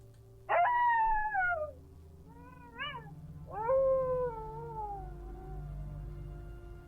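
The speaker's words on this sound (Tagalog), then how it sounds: "pag-alulong ng mga asong gubata" Wild dogs howl in three drawn-out, wavering cries that slide downward in pitch, the first and last long and loud, a short yelp-like call between them, over a low steady rumble.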